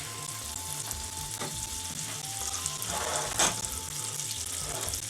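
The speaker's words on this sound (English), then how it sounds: "so it's about right now, so I'm going to put in our butter" Butter sizzles and fries steadily in a pan of caramel for a banana tart tatin, a close, continuous crackling hiss with faint stirring and no talking.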